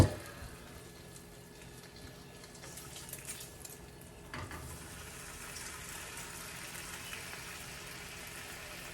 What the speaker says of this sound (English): Now we're gonna turn our bacon